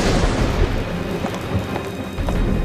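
Heavy thunderstorm with steady loud rain and rolling thunder, a dense continuous wash of noise with deep rumbling throughout.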